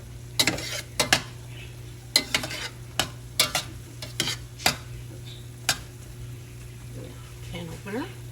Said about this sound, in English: I've been cooking with the butter. And I'm ready to add the Hopping John in there.